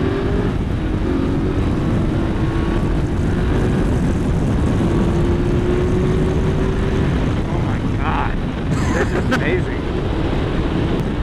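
A 2020 Indian Scout motorcycle pulls away on a test ride, its engine holding a steady, loud drone with a slowly rising tone, mixed with continuous wind rumble for the whole stretch.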